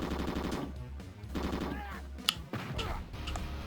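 Rapid machine gun fire from the video game Commando: Steel Disaster, with repeated electronic shot pulses rattling over game music, plus an explosion-like burst partway through.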